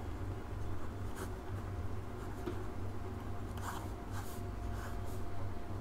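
Pen writing on paper while solving calculus differentiation problems, soft close scratching strokes in short irregular bursts over a steady low background hum.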